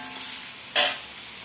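Chicken curry ingredients stirred in hot oil in a pan, a steady sizzle with a brief louder scrape of the spoon partway through, close and alone.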